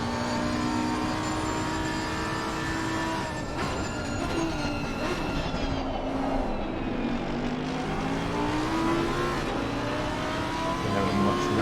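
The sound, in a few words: Lamborghini race car engine onboard, video game Assetto Corsa Competizione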